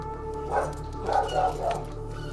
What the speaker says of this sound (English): Big dog.